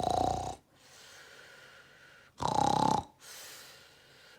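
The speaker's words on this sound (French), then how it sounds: "avec des ronflements bruyants" Two loud, rasping snores a couple of seconds apart, each followed by a quieter, breathy exhale.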